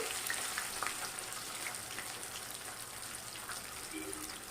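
Chicken 65 deep-frying in hot oil over a high flame, giving a steady, dense crackle and bubbling hiss that holds at an even level throughout, with no voices.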